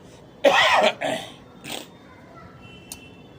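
A single harsh cough close to the microphone, followed by two smaller throaty coughs fading off in a quiet room.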